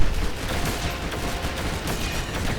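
Continuous rapid gunfire in the LEGO Batman video game, a loud dense fusillade of shots with no talking.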